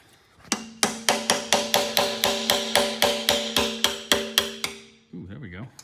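Someone pounds a hammer on engine parts of a 1965 Ford Mustang Coupe during intake manifold and water pump removal: about fourteen sharp, evenly spaced metallic strikes, loud and ringing, followed by a brief voice.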